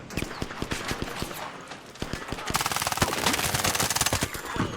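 Rapid automatic gunfire in the Arc Raiders video game, sharp repeated shots that speed into a dense continuous burst in the second half, close and loud.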